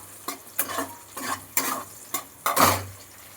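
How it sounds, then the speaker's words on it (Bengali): Chopped capsicum and onion being fried together in a pan, with a series of six or seven loud rhythmic spatula scrapes and stirs over a soft sizzle; no speech. "এবার ক্যাপসিকামটাও পেঁয়াজের সঙ্গে খানিকক্ষণ নাড়াচাড়া করে একটু ভেজে নিচ্ছি।"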